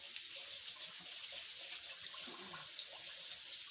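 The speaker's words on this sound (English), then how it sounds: "Let me wash my hands." A tap runs steadily into a sink as hands are washed, a soft continuous hiss of flowing water with faint splashing throughout.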